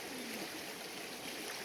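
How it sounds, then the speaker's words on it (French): A small river flows steadily close by, a soft continuous rush of water with no other sounds. "une petite découverte de notre rivière à côté de chez nous qui nous offre son spectacle tous les jours"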